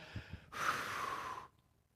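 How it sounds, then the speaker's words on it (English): An audience exhales together on cue: one breathy collective whoosh lasting about a second, fairly soft, then quiet, with faint murmurs just before. "Everybody exhale again"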